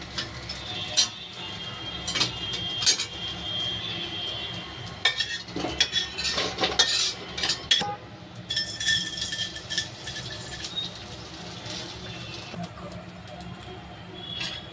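Metal utensils clink and scrape against a pan as fried edible gum (dink) is lifted out while making fenugreek laddu in a home kitchen, with irregular nearby clatters over a faint background hum.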